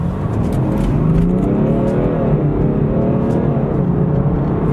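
BMW X3 M accelerating hard on boost, a loud, close engine roar that climbs steadily in pitch through the revs with no gear break, heard from inside the car.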